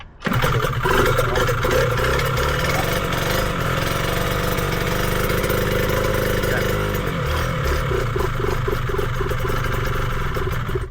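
A Yamaha TZR250 two-stroke motorcycle engine with the choke on fires and runs near and loud, a buzzing, uneven drone that lugs and varies as it struggles for fuel, with no talking.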